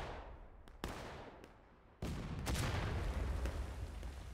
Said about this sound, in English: Damn, that cannon shot was good.